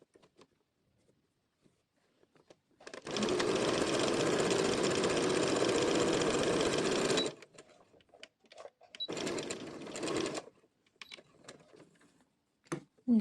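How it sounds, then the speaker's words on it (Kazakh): A sewing machine stitches along a fabric edge in a steady, rapid mechanical whir. One long run is followed by a shorter burst, with quiet pauses in between. "Енді машинканы аламын да тура сол жаңағы лапканың шетімен тігіс жүргізіп шығамын"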